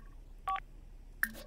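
Short electronic tones from a phone being used in the video game The Sims 4, two brief beeping bursts separated by a pause, clear and close with no talk.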